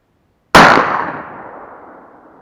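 A single sharp shot from a Makarov sporting X10 air pistol fired at an LCD TV from 55 metres: a loud sudden crack with a long decaying ring after it, no talking.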